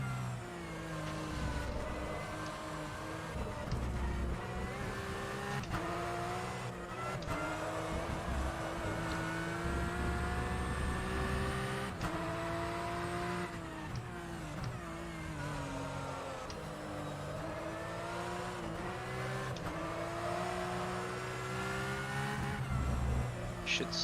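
Porsche 911 Cup race car engine at Spa in rFactor 2, a continuous loud engine note whose revs climb and drop through gear changes, with speech faintly over it.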